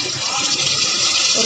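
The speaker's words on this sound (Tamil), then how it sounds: "ஒரு 1/4 டம்ளர் மட்டும் தண்ணி ஊற்றுங்க." Water poured into a pan of chili and turmeric powder frying in oil, giving a loud, steady hiss and sizzle that fills the brief moment with no talk over it.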